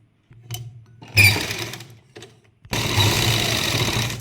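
A sewing machine stitching a lined salwar whirs in short bursts, starting, stopping and then running steadily, loud and close with no talk over it.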